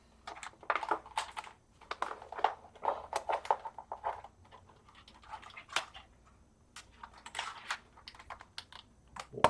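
A computer keyboard is handled and set down while a retro quad floppy drive rig is being upgraded, giving close, irregular plastic clacks and taps in scattered bursts, with a dog heard faintly in the background.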